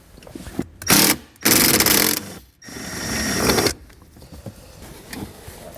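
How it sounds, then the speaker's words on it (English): 10mm socket on a ratchet removing a bolt from a 2015 Toyota during a trailer brake controller installation, several rapid whirring bursts of loud mechanical ratcheting with short gaps, close up. "I'm going to take a 10mm socket. I'm going to remove that bolt."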